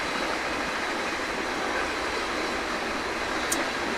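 A train running on a Dutch Netherlands route in the Train Sim World 5 video game, a steady, loud continuous rumble and rail noise throughout, with a brief higher squeal near the end and no voices.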